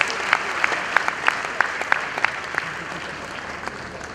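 Audience applause at the KNUST 58th congregation ceremony, steady clapping from a large crowd with a few sharper claps standing out, fading gradually toward the end.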